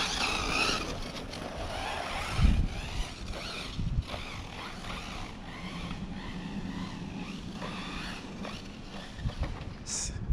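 An Arrma Typhon 6s RC buggy, an RTR model converted for competition, runs a timed lap on a track, its motor whining steadily with brief skids and bumps as it passes near and away.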